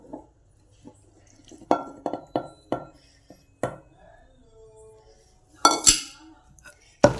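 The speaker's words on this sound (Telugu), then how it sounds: "ఇప్పుడు ఇవన్నీ వేసుకుందాం రోట్లో." Onion chutney ingredients, including onions and garlic cloves, are tipped into a stone mortar, giving a series of sharp clinks and knocks with a quiet scrape between them, close up and with no talking.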